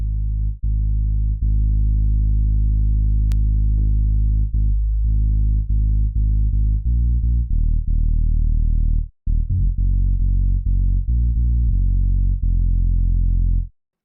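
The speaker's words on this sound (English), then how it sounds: "the first thing you can do is add distortion" A distorted house bass synth plays a low, gritty sustained line in repeated held notes with brief gaps, thick and buzzing, alone without voices.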